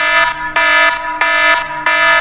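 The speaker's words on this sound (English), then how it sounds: "I must have turned off the alarm while being half asleep." An alarm clock going off at 3:14 a.m. blares in loud repeating harsh buzzing bursts of about half a second each, close and insistent, with no talking.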